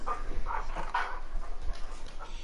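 Charlie the dog barks at a cat outside in a series of close, loud, sharp yips and barks spaced irregularly, some whining, with no speech over them.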